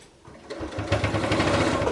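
A sewing machine stitches through a quilted long coat with a thicker needle, longer stitches and beige thread, its steady rapid mechanical chatter running close and continuous after a quieter start.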